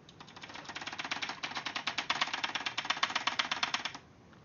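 Rapid keyboard typing, a steady stream of close clicks for about four seconds, then a sudden stop.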